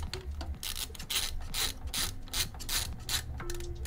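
Quick repeated ratcheting clicks as thumb screws are hand-tightened on a Noctua NH-L9x65 CPU cooler, close and fairly quiet in a steady rhythm.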